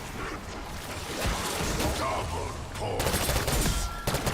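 Rapid gunfire in Black Ops 6 Zombies, with bursts of shots, impacts and whooshes coming in uneven waves and growing denser toward the end, loud and close amid game noise.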